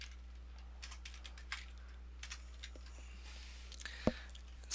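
Light, sparse typing on a computer keyboard while editing a web page in Dreamweaver CS6, a handful of soft scattered keystrokes and clicks over a steady low electrical hum, with no speech.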